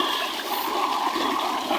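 Water pours and splashes steadily while feet are washed, a continuous close rushing hiss with no clear pauses.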